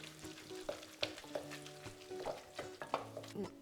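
A wooden spatula mixes a salmon filling with grated cheddar, giving a run of soft close scrapes and taps in an irregular rhythm, with no voices over it.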